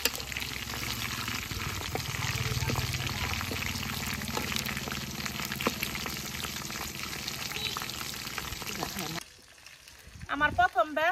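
Pieces of roast meat fry steadily in hot oil, a loud continuous sizzle and bubbling heard up close that suddenly drops away near the end, followed by a few clattering sounds.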